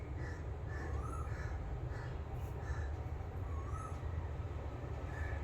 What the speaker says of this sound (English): If you're hearing that bird, that's another confirmation.